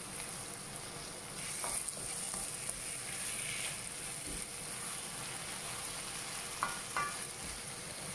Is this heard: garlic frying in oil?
yes